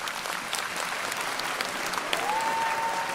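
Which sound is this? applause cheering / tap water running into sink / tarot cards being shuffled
applause cheering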